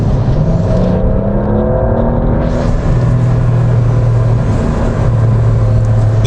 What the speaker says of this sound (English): This car makes some interesting sounds as well, like from the engine area.